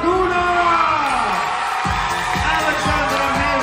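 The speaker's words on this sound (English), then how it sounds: "A round of applause for Miss Grand Laguna," Audience cheering and whooping at a Miss Grand Philippines 2024 pageant for Miss Grand Laguna, a dense steady crowd roar with scattered shouts while a host's voice carries over it.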